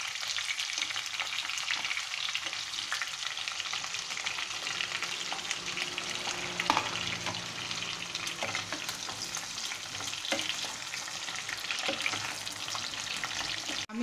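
Eggplant pieces, drumstick, ridge gourd and pointed gourd fry in hot oil in a pan, making a loud, continuous crackling sizzle with a few scrapes and clinks from stirring, with no voices.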